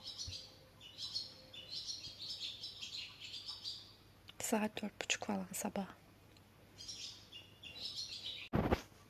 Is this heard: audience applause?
no